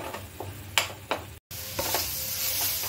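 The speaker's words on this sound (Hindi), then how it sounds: "ये देखिए मेरा मसाला अच्छे से फ्राई हो गया है" Masala for stuffed bitter gourd frying in a pan with little oil, a soft steady sizzle broken by a few sharp stirring scrapes and a brief dropout midway.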